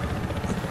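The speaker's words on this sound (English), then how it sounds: "I'm gonna spawn here in the patrol helicopter." Patrol helicopter in the game Battlefield Hardline, a steady, loud rotor drone with a low pulsing chop that runs unbroken through the brief moment, with no talk over it.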